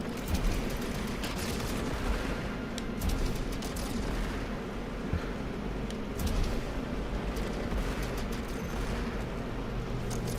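Gunfire in the video game Contra Operation Galuga, dense continuous shooting and blasts that roll on without pause, loud and busy over game noise.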